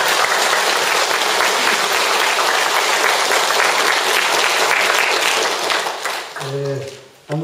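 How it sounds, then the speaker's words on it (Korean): A hall audience at a Korean Won Buddhist dharma ceremony gives sustained, dense applause for several seconds, fading near the end as a voice begins speaking. "그분들을 위해서 박수 한번 주세요."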